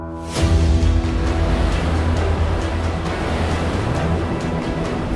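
Strong winds and pounding sea waves during Cyclone Biparjoy make a loud, steady roar of rushing air and surf that starts abruptly and continues without a break.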